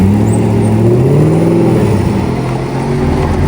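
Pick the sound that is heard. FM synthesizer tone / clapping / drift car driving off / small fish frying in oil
drift car driving off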